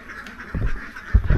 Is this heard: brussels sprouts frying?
no